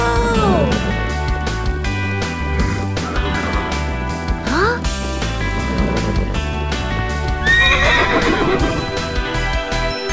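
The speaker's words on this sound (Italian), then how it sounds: "Oh, sono davvero in groppa a un cavallo alato!" Winged horse in an animated children's cartoon whinnying repeatedly, loud and close, with rushing wind and a music bed running underneath throughout.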